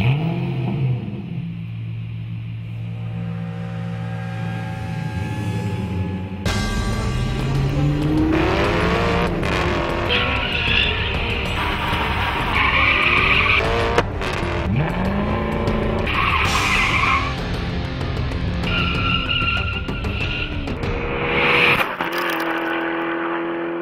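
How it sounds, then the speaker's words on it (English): An Alfa Romeo 8C Competizione, an Italian supercar with a 450-horsepower Ferrari-based V8, drives hard with its engine revving and rising through gears while tires squeal and skid in long bursts, loud and close throughout with no talking. "it's an Italian supercar, and that means a Ferrari-based V8 engine making 450 horsepower"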